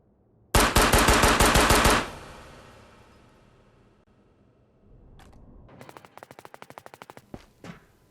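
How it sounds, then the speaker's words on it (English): Rapid burst of about a dozen Tokarev TT-33 pistol shots fired in the Ghosts of Tabor video game, loud and close, followed by reloading clicks and mechanical rattling with a couple of sharp metallic snaps. "I will now mag dump wildly"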